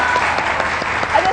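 An audience bursts into steady applause at a live event, dense clapping filling the short moment without a break.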